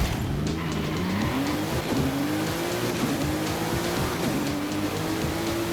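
Porsche race car in Forza Horizon, its engine note rising and climbing through the revs under a dense roar of racing cars, steady and loud throughout.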